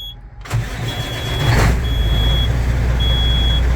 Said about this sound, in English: And then when you start the truck, you want to watch your oil pressure.